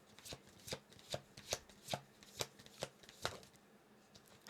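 Tarot cards are shuffled close up in a quiet room, a regular run of about ten soft riffling bursts spaced under half a second apart, with no voices.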